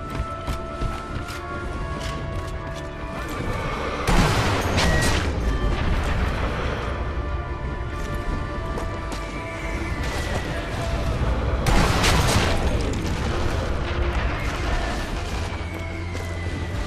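Gunfire in Sniper Elite V2 co-op play under a continuous noisy battle bed. Two prominent sharp shot impacts with echoing tails stand out, spaced several seconds apart.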